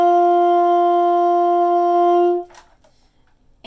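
A saxophone holds one clean, steady practice note at close range for a couple of seconds before it cuts off, leaving quiet room noise.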